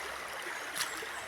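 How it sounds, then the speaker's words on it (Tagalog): River water flowing in Zamboanga Sibugay, Mindanao, a steady broadband rush with a brief louder splash near the middle, no voices. "Ito po ang ilog sa amin sa Mindanao."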